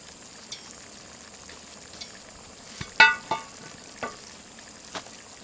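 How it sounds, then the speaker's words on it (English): Sausage is stirred in a cast iron Dutch oven over a soft sizzling simmer, with a few sharp scraping clanks from the utensil against the pot, no talking. "stir it up good, put the lid back on, and let this finish simmering."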